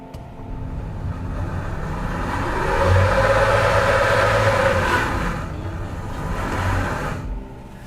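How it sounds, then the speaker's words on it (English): A 2023 Toyota Corolla AWD stuck in place revs hard with its front wheels spinning, the engine note swelling to a sustained loud roar, easing slightly, then climbing again. "Both front wheels are really spinning furiously, but no action to the rear"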